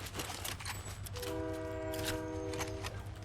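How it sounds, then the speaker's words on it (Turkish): A train passes in the Fortnite video game, rumbling steadily with a long sustained horn blast over game effects, loud and close throughout, without talk. "Tren gelir, hoş gelir."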